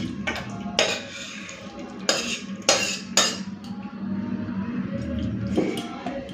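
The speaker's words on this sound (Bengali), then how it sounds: "এই যে চিংড়ি দিয়ে আলু কুমড়ো বেগুনের তরকারি ঢেলে নিই" Prawn curry with potato, pumpkin and brinjal tipped from a cooking pot into a serving dish, with a few sharp metallic clinks and scrapes of a spoon against the vessel over a soft, steady background hiss.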